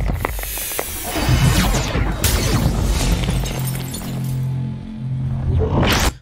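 Loud glass shattering built for a trailer scene, a dense crash of breaking glass with scattered shards and debris spread across several seconds, then a final sharp burst at the end.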